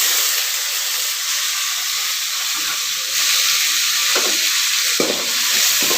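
Mustard seeds, curry leaves, asafoetida and green chillies sizzle in hot oil in a pan, a dense steady crackling hiss close up with occasional stirring scrapes and light pops, no talk.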